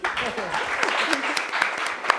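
An audience at a competitive-exam guidance talk claps steadily, a dense wash of applause that keeps going with some voices mixed in.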